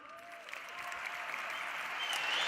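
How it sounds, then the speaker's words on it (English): An audience claps for the young people in the crowd at a motivational talk for entrepreneurs, a steady wash of applause that builds slightly toward the end, with no voices over it. "clap it up for the youngsters one more time"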